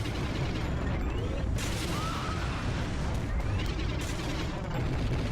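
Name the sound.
turrets firing in the video game Iji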